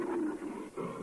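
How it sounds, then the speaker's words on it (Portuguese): Lions growl and roar in a low, rumbling way in the animated story of Daniel in the lions' den, close and sustained for about a second, with no speech. "que monte de leões famintos."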